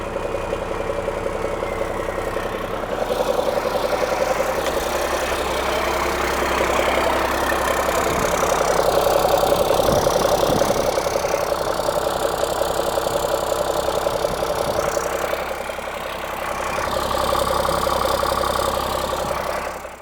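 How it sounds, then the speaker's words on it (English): A Cummins diesel engine fitted in a Land Rover 130 idles steadily with good oil pressure, a continuous close rumble with a slight knock that holds even for the full stretch, no voices over it. "I'm just going to let it idle for a while now, let that oil get warmed up"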